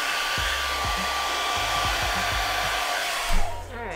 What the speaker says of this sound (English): I'm gonna call in some help from my trusty, I forgot what this is called. Blow dryer and see if this works.